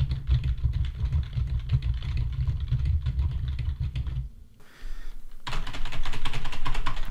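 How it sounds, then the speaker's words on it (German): Fingers rapidly clatter on a computer keyboard, a dense stream of close key clicks recorded through a dynamic broadcast microphone, briefly pausing before the typing resumes louder, with no talking. "So, jetzt nochmal Tastatur hauen,"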